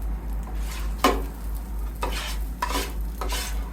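Onions sizzling on a Blackstone flat-top griddle for a Philly cheesesteak, with a steady frying hiss, a low hum underneath and four sharp metal spatula scrapes and clacks up close.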